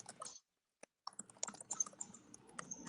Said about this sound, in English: It sounds like somebody's typing.